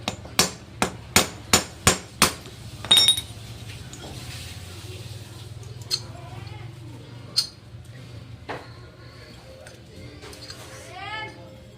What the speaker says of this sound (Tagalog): pagka pukpok, huwag na muna masyadong pukpukin o higpitan